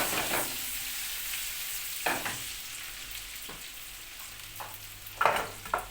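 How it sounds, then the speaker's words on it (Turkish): Meatballs fry in oil in a pan, a constant crackling hiss broken by occasional sharper pops and clinks, with no voices. "Köfteler de burada kızarıyor."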